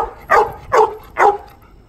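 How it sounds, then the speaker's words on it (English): A backyard dog gives three evenly spaced, close barks with a whining edge, each short and fairly loud, with a quiet pause between them. "But here's my dog."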